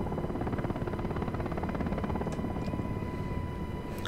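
Rotor and turbine engine of a UH-60L Black Hawk helicopter in the DCS World flight simulator, a loud, steady chopping drone with fast blade thump that runs unbroken throughout.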